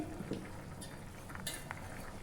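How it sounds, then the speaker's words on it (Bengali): Chicken being stirred in a pan with a little oil, with soft scraping and clinking of a utensil against the metal and a low sizzle throughout, no voices. "এটাকে খুব সুন্দর করে মিশিয়ে নেব।"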